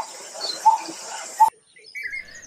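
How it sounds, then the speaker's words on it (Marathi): A coppersmith barbet gives two short, evenly spaced tonal notes, fairly close and clear, over light background chirping that cuts off midway. "तांबट अळीतले तांब्याची भांडी करणारे तांबट जसे लयबद्ध आवाज करतात तसेच हे"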